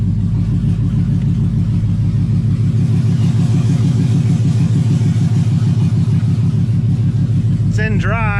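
A Chevrolet Camaro with an LS engine idles steadily with a deep, even rumble, close and loud throughout, while a person talks briefly near the end.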